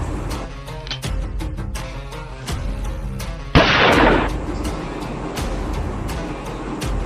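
Gunfire in a video game: one sharp, loud shot with a burst of noise stands out over a busy backdrop of faint, rapid clicks and game sounds.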